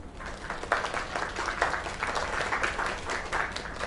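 An audience claps after a singing performance, a lively irregular patter of many hands with individual claps popping through, moderately close and sustained.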